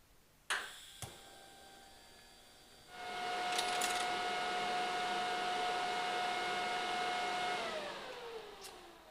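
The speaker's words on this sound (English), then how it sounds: "We're going to tack it, then I guess weld it and see what happens." Welding on a transmission oil catch can for a turbo 5.3 LS Nova drag car: a few sharp clicks and taps, then a steady electric buzzing hiss held for about five seconds before it stops, with no voices.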